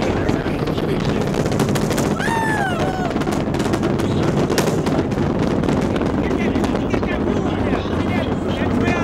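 Space Shuttle Atlantis on its final launch, a sustained, loud broadband rocket roar continuing steadily throughout, with a faint voice heard over it.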